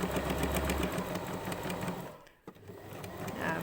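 A sewing machine stitches a gathering line along the edge of a puff sleeve, a rapid rhythmic mechanical whirr that briefly pauses mid-way before running on again, close and moderately loud.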